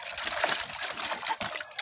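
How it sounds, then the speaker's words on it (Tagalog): Water splashes and trickles as it is poured into a drinking container for breeding chickens, a close, continuous gush with a few brief surges. "Kailangan palitan natin ang tubig."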